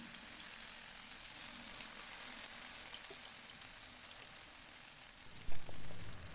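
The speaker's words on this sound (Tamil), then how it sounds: "எண்ணெய் நல்லா ஹீட் ஆயாச்சு. வாழைக்காய் அவ்வளோத்தையுமே போட்டுடலாம்." Green plantain slices frying in hot oil in a pan give a steady, close sizzle that holds evenly throughout, with a brief clatter near the end.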